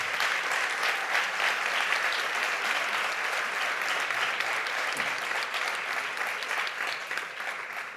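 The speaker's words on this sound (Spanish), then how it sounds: "Démosle un aplauso," Sustained audience applause in a hall at a public debate event, a dense steady wash of clapping from many hands that tapers slightly near the end.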